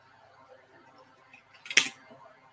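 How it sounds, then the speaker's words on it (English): Ribbon scissors make a single sharp, close snip through paper for a pop-up card after a quiet lead-in. "I'm going to use my scissors, my ribbon scissors"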